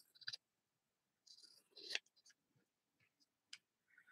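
Scissors snip through paper in a quiet crafting session making no-sew paper and fabric pockets, a few sharp, close cuts spaced irregularly with light handling clicks between.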